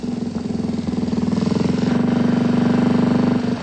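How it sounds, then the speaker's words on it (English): A BMW R2 motorcycle with a horizontally opposed twin engine runs close and steady, its loud rhythmic throbbing exhaust pulse holding an even pitch and swelling slightly as it goes, with no one talking. "The R2 motorbike continued the BMW pattern of horizontally opposed twin engines"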